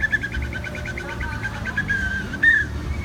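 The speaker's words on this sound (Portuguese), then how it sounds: "um lindo passarinho" A small bird chirps in a quick run of repeated high notes, then a louder, sharper call, heard over a steady rumbling background noise.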